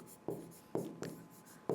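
Chalk or marker taps and strokes on a classroom board in four short, soft marks at uneven intervals, close and quiet with no talking.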